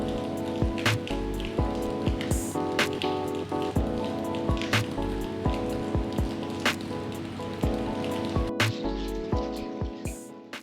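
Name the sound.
heavy downpour of rain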